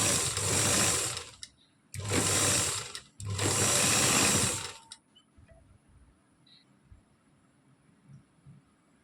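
A sewing machine stitches the neckline of a blouse in three steady bursts, each roughly a second long with short pauses between. The machine runs fairly loud and close, and the room goes quiet afterward.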